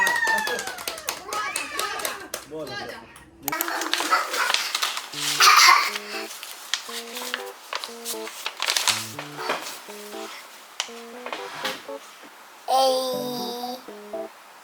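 A family claps for a child named Jia at her birthday celebration, irregular hand claps mixed with children's babble and lively chatter, and bright toy-like tones sound intermittently.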